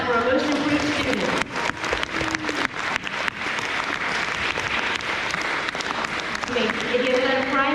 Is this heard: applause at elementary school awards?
yes